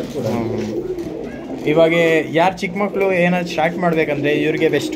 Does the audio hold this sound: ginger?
no